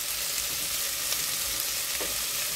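Onion, garlic and ginger sizzle steadily in a pan for chicken adobo, a close, even crackle with no voices.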